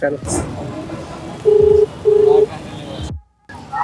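A phone call's ringback tone sounds in two short, steady beeps, close and clear, after a moment of talk and background noise, then the line falls briefly silent.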